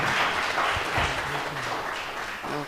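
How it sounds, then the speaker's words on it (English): Audience applause at an entrepreneurship bootcamp pitching session, a continuous, fairly loud clapping wash that holds throughout and barely fades at the end. "Can we clap for them?"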